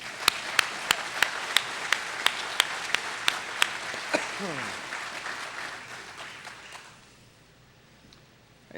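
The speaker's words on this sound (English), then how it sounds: "Let's give them a round of applause." A crowd at an AA speaker meeting applauds steadily, with a few sharp, evenly spaced claps standing out early; the applause fades toward the end.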